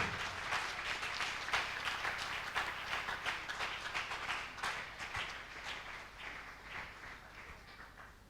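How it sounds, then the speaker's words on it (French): A church congregation in Cameroon applauds loudly as a woman arrives, dense sustained clapping from many hands that thins and softens gradually toward the end, with no voices over it. "Acclamez très fort pour la sœur Abomo pendant qu'elle est en train d'arriver."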